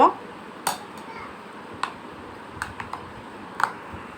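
A spoon stirs powdered milk, baking powder, ginger and salt together in a bowl for jackfruit pitha, making a few sparse, sharp clinks and taps close by against a quiet background.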